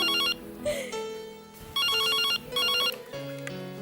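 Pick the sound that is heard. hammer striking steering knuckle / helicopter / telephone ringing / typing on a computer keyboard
telephone ringing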